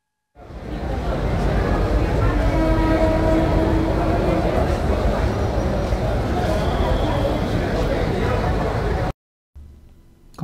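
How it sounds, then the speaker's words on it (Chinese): An American train station recorded as a BBC sound effect: a loud, steady rumble of rolling rail cars that fills nearly the whole stretch, then cuts off abruptly before a brief quieter tail. "了，火车站。"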